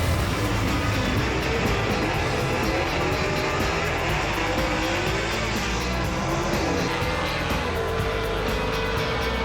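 Gasser drag race cars roar off the line at a Southeast Gassers event, a loud, continuous wall of engine noise with the pitch sweeping upward as they launch and race down the strip.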